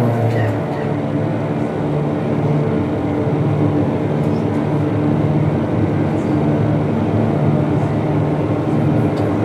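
A simulated aircraft engine in X-Plane runs as a loud, steady, continuous drone with a low hum and no clear rise in pitch or volume.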